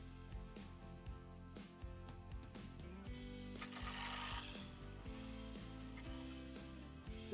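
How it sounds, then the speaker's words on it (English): A sewing machine stitches a crocheted headband, its motor running in a steady, continuous mechanical whir with rhythmic clicking and shifting pitch as the fabric is dragged through, moderately loud and close with no talking. "So while I'm sewing"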